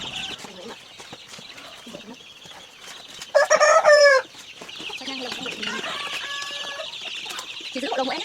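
Chickens cluck and a rooster gives a loud crow midway on a Vietnamese farm, with people talking nearby throughout.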